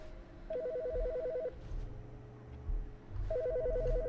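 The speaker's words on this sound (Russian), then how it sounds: "Телефон." Telephone ringing in the video game The Stanley Parable, two electronic trilling ring bursts separated by a pause, clear and fairly loud over a low background hum.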